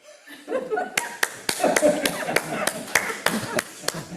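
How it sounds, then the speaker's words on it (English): People at a group meeting clap in a run of sharp, fairly regular claps, close and crisp, with voices and a little laughter mixed in underneath. "people clap"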